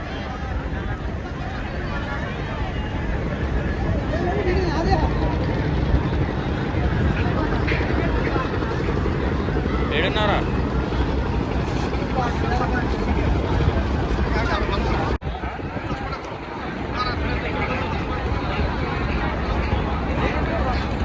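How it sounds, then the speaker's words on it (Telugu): Boat engines drone on the Ganges at Raja Ghat in Kashi, a steady motor rumble close by with crowd babble and voices mixed underneath, briefly dipping before resuming. "ఒక పెద్ద బోట్ అయితే పోతుంది చూడండి"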